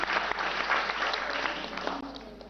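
Steady audience applause for a team at a Rajasthan government quiz show, a dense even wash of clapping that holds throughout without a break.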